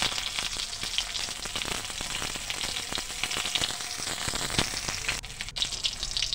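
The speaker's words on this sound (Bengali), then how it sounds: "এবং উল্টে পাল্টে ভেজে নিলাম।" Pangas fish belly pieces frying in their own rendered fat, a continuous close sizzle with occasional crackles and scraping as the pieces are turned, no talk.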